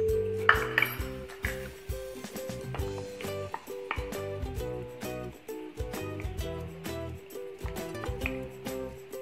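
Metal utensil clinks repeatedly against a bowl while cake batter is mixed with milk, a steady run of light, close taps and scrapes.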